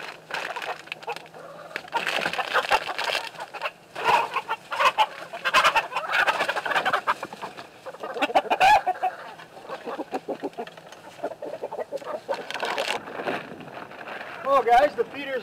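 Hens cluck and squawk nearby in a busy, irregular chorus, with a rooster's calls mixed in and a person talking over them at times.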